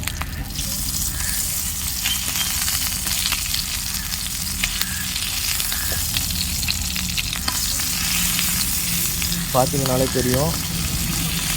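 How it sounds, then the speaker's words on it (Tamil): Vanjiram fish frying and being flipped in a pan for a Tamil-style fish fry: loud, steady sizzling throughout, with brief clatters as the fish is turned, while someone talks over it. "ஒரு சைடு பார்த்திங்கன்னா நல்லா வெந்துருச்சு. இப்போ நம்ம மீனை வந்து திருப்பிடலாம்."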